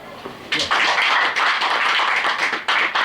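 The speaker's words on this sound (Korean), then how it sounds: "이렇게 곰박수 나오면은" Clapping at a committee meeting breaks out after a quiet half second and then holds steady and loud, a dense patter of hands that swells and dips slightly to the end.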